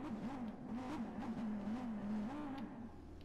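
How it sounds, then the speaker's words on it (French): A sports car engine in the video game Watch_Dogs 2 revving and holding a wavering drone, pitch rising and falling in smooth swells, loud and close, with no talking. "j'aime bien le bruit du moteur"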